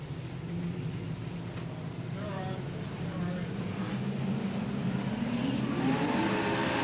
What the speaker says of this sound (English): There's the green flag to send the superstars away, and the New South Wales champ John Pine